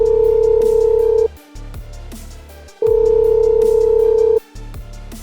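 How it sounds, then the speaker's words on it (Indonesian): Telephone ringing in an animated movie: two long electronic ring bursts, each about a second and a half, separated by a short pause, loud and close, with no talk over them. "Zan, ada apa lo telepon gua?"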